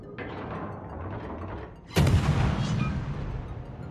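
Guns of the cruiser San Diego firing AP shells in a naval video game, a mechanical clatter of turret machinery followed by one loud, booming salvo that rolls away.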